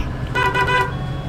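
A bus stop request bell in the Bus Simulator 18 video game sounds one short, bright electronic tone of about half a second over the low hum of a Setra city bus engine.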